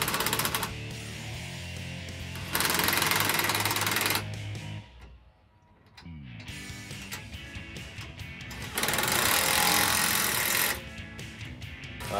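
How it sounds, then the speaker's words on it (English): A 19 mm wrench tightens bull bar bracket bolts on a 2007-2021 Toyota Tundra, giving bursts of rapid mechanical clicking and ratcheting in several loud stretches with brief quieter gaps. "take a 19 millimeter wrench, tighten it up"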